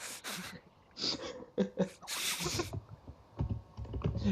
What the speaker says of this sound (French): Qui est en train de taper au marteau sur ses touches du clavier?